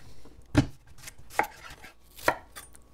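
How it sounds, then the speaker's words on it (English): Three sharp knife chops into daikon radish on a cutting board, cutting it into potato-sized chunks for a low-carb fish chowder, spaced irregularly and heard close with no talk. "These are daikon radish. I'm going to chop them up to resemble potatoes."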